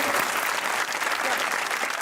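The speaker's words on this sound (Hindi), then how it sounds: "गिलानी साहब के लिए भाई तालियां।" An audience claps steadily and fairly loudly for Gilani on an interview talk show, a continuous wash of applause with a faint murmur of voices underneath.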